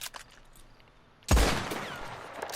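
Navy revolver fired in Red Dead Online, a sharp close gunshot blast with a booming low punch and a long ringing decay, preceded by faint quiet game ambience.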